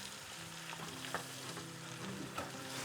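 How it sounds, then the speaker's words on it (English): Steady frying sizzle of cauliflower in hot oil, constant crackle with a few sharper pops and stirring sounds, close by, with soft music underneath. "I'm gonna start frying the cauliflower."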